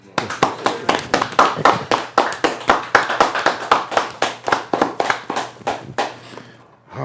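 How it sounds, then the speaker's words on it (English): Steady hand clapping, around twenty sharp claps in a brisk even rhythm, close by, tapering off at the end. "That almost deserves a round of applause."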